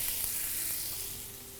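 Onion and celery sautéing in oil in a pan, a brief, quiet, even sizzle that fades slightly, with no voices.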